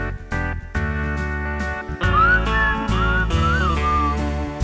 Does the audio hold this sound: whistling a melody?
yes